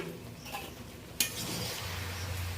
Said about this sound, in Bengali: ঢাকনাটা খুলে নিলাম